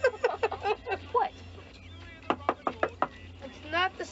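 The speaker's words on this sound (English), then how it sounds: "It's not the secret knock." A series of sharp knocks on a door in a movie scene, several quick raps in short bursts, with people talking in between.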